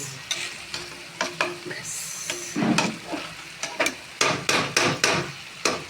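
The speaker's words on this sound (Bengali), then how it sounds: "এবার একটু নেড়ে দেবো" Chicken tehari with ghee being stirred in a pot: a series of sharp scraping and knocking strokes in an uneven rhythm over a soft sizzle, close and fairly loud, with one brief spoken word.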